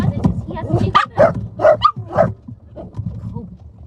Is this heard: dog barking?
yes